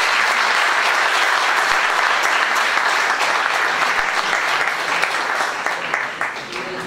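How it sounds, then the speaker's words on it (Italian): Sustained applause from an audience at a book presentation in Casapesenna, a dense steady patter of many hands that fills the whole stretch and eases slightly toward the end. "Quindi io un applauso a loro,"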